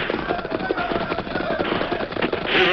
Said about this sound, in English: the sound of gunfire increased.